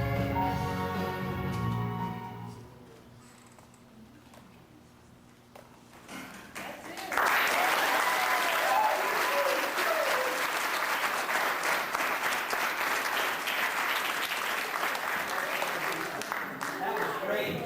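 Audience applause after a sung performance at a Burmese community newcomer event in a high school: the music fades into a quiet lull, then loud, sustained clapping from a large crowd swells in and holds for about ten seconds.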